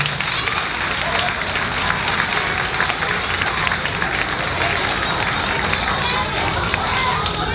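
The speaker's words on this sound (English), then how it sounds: "Let's give them a round of applause." A school auditorium audience at an elementary winter concert claps steadily for the students, a dense, continuous wash of applause with crowd noise and some voices mixed in throughout.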